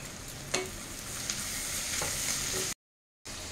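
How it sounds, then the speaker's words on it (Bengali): Sliced onions with salt fry and get stirred in a pan, a steady close sizzle with a few soft scrapes and clicks of the spoon, broken by a brief silent gap near the end. "এবার আমি এটাকে আরো ভালো করে ভাজবো।"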